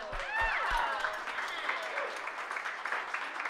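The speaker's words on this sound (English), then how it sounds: "let's give her a round of applause" Audience applause for a speaker at an Opportunity Coalition entrepreneurs' event, moderate clapping under a voice at the start, then settling into a quieter, steady patter.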